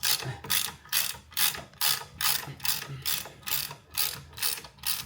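A ratchet tightens a front suspension nut on a third-generation Suzuki Jimny during a spring swap, about ten even, close clicking strokes in a steady back-and-forth rhythm with no talk.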